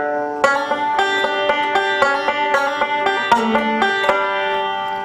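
Banjo picking a D fill-in lick with hammer-ons and an open fourth string, a quick run of bright plucked notes in steady rhythm, close and clear without talking.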